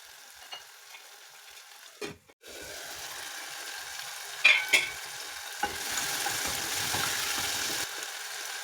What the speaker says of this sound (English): Add tomatoes. Stir and let it cook for some time until it's soft.